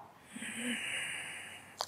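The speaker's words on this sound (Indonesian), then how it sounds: "Waktu kamu tarik napas inhale" A long, steady inhale through the nose during a diaphragmatic breathing exercise, soft and airy with a faint wheezy hiss, held for nearly two seconds before a brief sharp sniff near the end.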